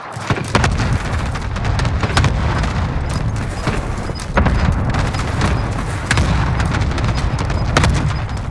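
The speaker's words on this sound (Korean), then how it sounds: "확산탄을 발사하겠다" Cluster strike detonations in Call of Duty Warzone, a dense run of booming blasts and crackling bursts rolling continuously for several seconds, loud and layered with repeated sharp impacts.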